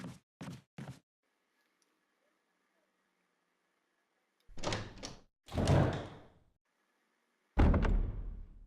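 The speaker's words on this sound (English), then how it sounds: "Door here, it's locked." A locked door in the Resident Evil remake video game is tried and rattled: three quick knocking thuds, then a pause, then several heavier clunks and a final solid thump.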